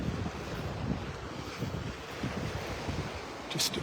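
Wind and surf on a Gulf beach at Pelican Bay in North Naples, Florida, with the tide going out: a steady rushing roar of breeze and low wave wash, with a brief brighter gust near the end and no talk.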